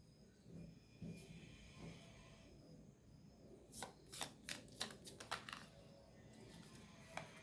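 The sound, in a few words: shuffling a deck of tarot cards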